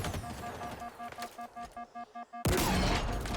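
Gunfire in Halo Infinite: a quick string of evenly spaced shots, then a sudden loud blast that rings on, heard close.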